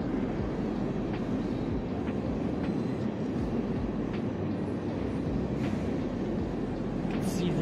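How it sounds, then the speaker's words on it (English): A long train rolls past at a steady distance, a continuous low rumble of wagons with faint periodic clacks, moderately quiet and unbroken throughout. "See the train as far as it can go. Can't even see the end."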